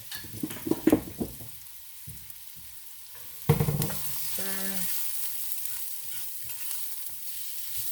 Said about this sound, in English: Get the herbs all cooking.